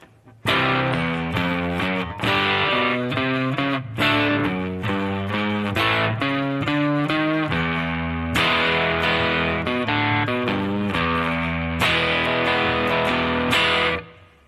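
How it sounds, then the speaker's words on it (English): Distorted guitar chords ring out in a steady sequence, each preceded by quick chromatic bass notes sliding into it, loud and continuous, in the outro of a song. "the bass line that happens during the outro"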